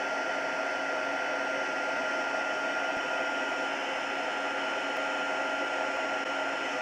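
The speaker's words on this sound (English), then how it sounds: "I'm just moving that heat tool onto the next spot." A heat tool blows hot air onto a plastic-coated craft card to stop it warping, giving a steady, loud broadband whoosh that stays even throughout with no talking.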